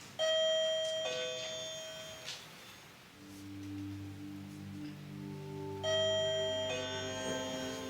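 A wireless doorbell plays its chime tune twice, clear electronic ding-dong tones ringing out and decaying, fairly close with a faint background hiss and no voices.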